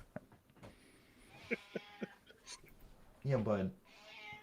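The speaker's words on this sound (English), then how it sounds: "I'm talking to my cat. He's yelling at me." A pet cat yowls at its owner indoors, starting with a few short meows and ending in one longer, louder cry near the end, while someone says a couple of brief words.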